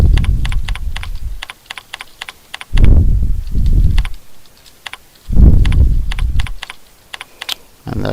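Steady typing on a computer keyboard: rapid, crisp keystrokes at close range, tapping along in irregular bursts and pausing now and then, with some louder, heavier thuds mixed in.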